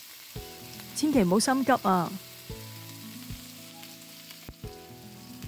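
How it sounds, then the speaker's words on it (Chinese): Cowfish sizzling in oil in a wok over medium-low heat, a steady close frying crackle under a short spoken phrase, with occasional clinks from the pan. "咁我哋慢慢煎啦，记住保持住中细火"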